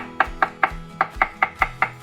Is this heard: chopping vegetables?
yes